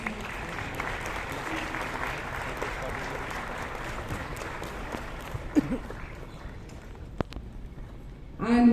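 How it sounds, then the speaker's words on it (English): Applause from the audience at the IIT Bombay E-Summit, a steady wash of crowd clapping that gradually thins out, with a few sharp knocks and a brief voice near the end. "Let's give him a big, big, big round of applause."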